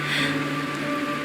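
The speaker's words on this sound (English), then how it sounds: "This is the sound of rain." Steady rain falls in Honkai: Star Rail, a soft continuous hiss of drops over a sustained musical drone, even and unbroken throughout.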